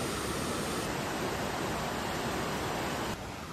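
Loud, constant roar of a swollen river rushing through jungle near a bridge in Sankhuwasabha, a dense unbroken wash that drops slightly at the very end.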